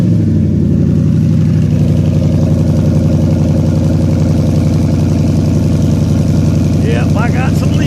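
A Ford Mustang idles with its exhaust cutouts closed and the system leaking, a loud, steady, throbbing rumble that stays close and constant, with a short voice near the end.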